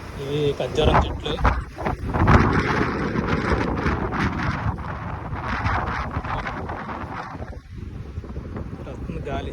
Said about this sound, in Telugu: సిటీ మొత్తం గాలి, దుమ్ములు వేసిపోయింది గాలికి ఘోరంగా.